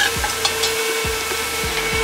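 Vegetables sweating in a pot for bean chilli, a steady close sizzle with a faint hum beneath and a few soft stirring scrapes and knocks.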